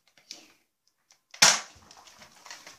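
A single Nerf blaster shot cracks out sharply at close range, followed by faint rattling and handling clicks, with no talking.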